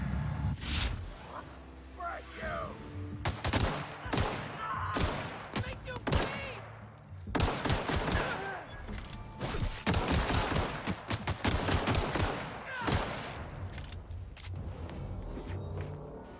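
Repeated bursts of gunfire in The Outer Worlds, a mix of single shots and rapid volleys spread through the whole stretch, loud and close, with game rumble between bursts and a voice talking over parts of it.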